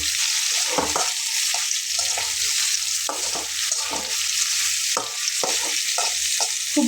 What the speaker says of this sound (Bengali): তো বন্ধুরা আলুটাকে ভেজে নিতে নিতে